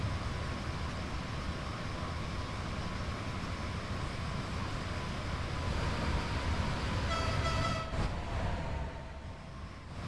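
Passenger train running at speed in the Train Sim World 4 video game, a steady loud rumble and rushing hiss of wheels and air with faint tonal whine, continuous throughout and briefly swelling near the end.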